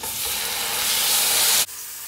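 Chicken pieces sizzle loudly and close in a grill pan, a dense crackling hiss that swells slightly and then cuts off abruptly, leaving a quieter residual sizzle.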